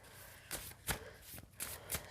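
Tarot cards are shuffled in quick, soft riffling bursts, four or five papery flutters spaced across a couple of seconds, close and quiet against a hushed room.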